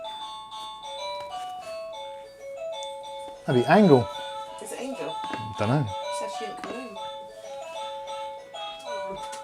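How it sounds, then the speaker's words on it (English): Doorbell chime in a room, a sequence of clear melodic electronic tones ringing under and between nearby conversation, with several people talking over it. "That was a doorbell, by the way, in case you haven't heard it before."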